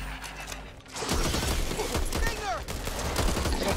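Repeated gunfire in the co-op zombie shooter Back 4 Blood, sniper rifle among the weapons, cracking loud and close amid mechanical clatter, with a voice talking over it.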